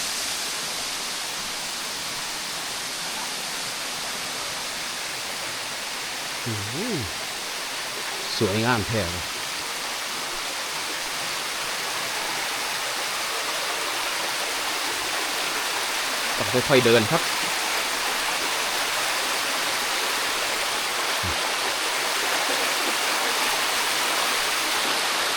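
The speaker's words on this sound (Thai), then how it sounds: "น้ำตกพาลีครับ" Pha Li waterfall pours over rocks in a constant, even rush of water, with a few brief voices speaking over it.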